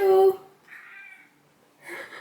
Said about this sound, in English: So back in the house with the cat.